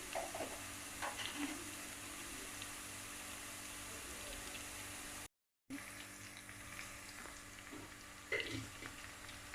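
Onions and two green chilies fry in a pot for a fish curry, giving a quiet, steady sizzle with faint clinks and stirring sounds and a brief cut of silence midway.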